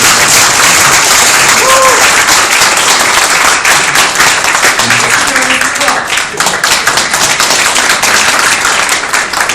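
Loud, sustained applause from attendees at a year-end alumni gathering, approving a new alumni association president, with dense clapping filling the room and a few voices heard beneath it.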